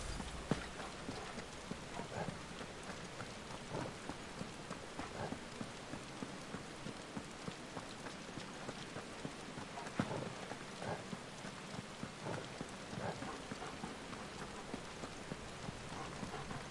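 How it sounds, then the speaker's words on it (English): Steady rain falls in Final Fantasy XVI, a dense continuous patter with occasional sharper clicks and thuds over it, fairly quiet and unbroken with no talking. "I guess we're getting rained on"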